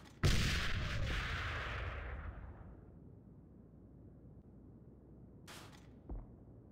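A grenade detonates in a multiplayer shooter game, one sharp loud blast with a long rumbling decay that fades over a couple of seconds, followed later by brief faint clicks.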